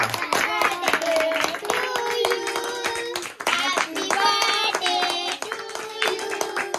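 Several people clap by hand after a birthday cake is cut at a family celebration, a quick, uneven patter of claps running throughout while voices talk and sing over it.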